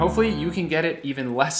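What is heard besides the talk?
No everyday noise stands out behind the speech.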